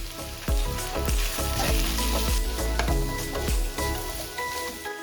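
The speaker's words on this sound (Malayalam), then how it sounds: "നമ്മളെ ഉള്ളിയെല്ലാം നല്ലോണം വാടി വന്നിട്ടുണ്ട്." Onions with slit green chilies, ginger and garlic fry in a pan for a Kerala hotel-style egg curry, giving a steady, close sizzle with soft stirring scrapes and light clinks throughout.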